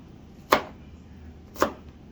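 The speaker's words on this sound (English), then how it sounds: "Right now I'm cutting up onions." A knife cuts onions on a board with two sharp, separate chops about a second apart, close and crisp against a quiet background.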